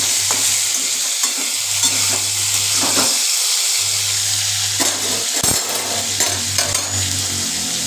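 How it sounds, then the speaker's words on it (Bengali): Mixed vegetables with boiled jackfruit seeds frying in a pan, a steady close sizzle with intermittent scraping stirs throughout, no talk. "এগুলো একটু ভাজা ভাজা করে নিচ্ছি"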